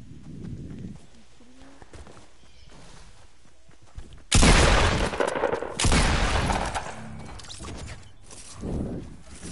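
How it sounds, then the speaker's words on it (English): A shotgun fires in a video game: a few heavy, booming blasts close together midway, surrounded by quieter game noise and movement. "I'm using the shotgun"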